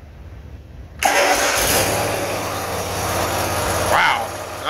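A Vanguard lawn mower engine that had been missing on one cylinder fires on the first pull without choke after a second of quiet, then settles into a loud, steady close-up idle with a brief rev near the end.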